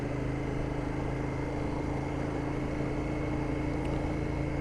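A Royal Enfield Interceptor 650 motorcycle on a test ride in a low gear, its engine giving a steady, continuous drone with rushing wind noise, loud and unbroken throughout with no talking.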